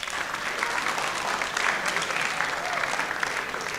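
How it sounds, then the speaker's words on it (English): A school auditorium audience claps steadily, a full, even roar of many hands with occasional louder bursts and faint voices underneath. "So please give them a round of applause."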